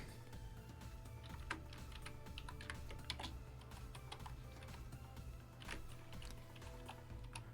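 Typing on a computer keyboard, a quiet continuous stream of light key clicks at an uneven pace over a low steady hum, with no talking.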